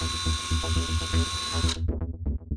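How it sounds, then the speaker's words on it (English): A power drill bores mounting holes for a double door exit alarm installation, a steady whirring drone that cuts off partway through, followed by a few ratcheting clicks, heard close and fairly loud. "Drill the 4 holes."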